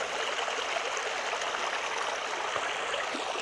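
A moving stream of water flows steadily with a bright, constant rushing and babbling wash, close and alone with no voices.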